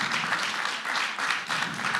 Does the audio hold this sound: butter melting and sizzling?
no